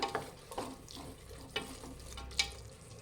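Rice bath fried over a medium flame in a pan, a low continuous sizzle broken by several clear spoon scrapes and clinks against the pan as it is stirred.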